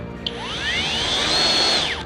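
A Hoto cordless drill whirs while mounting handlebars on a Solé E(24) electric bike, its motor pitch sweeping up then settling into a steady high whine for about two seconds before winding down, close and fairly loud.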